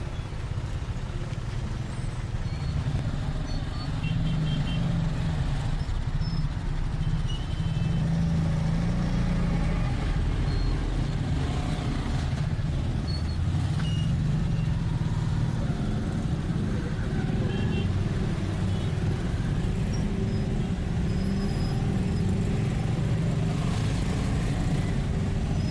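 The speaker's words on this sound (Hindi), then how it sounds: "कभी तो ट्रैफिक कम होती है लेकिन कभी बहुत ज़्यादा स्टक होती है।" Busy road traffic in Lahore around Shahdara and Azadi Chowk, a steady dense rumble of car, truck and motorcycle engines idling and crawling in congestion, continuous and close throughout with no voices.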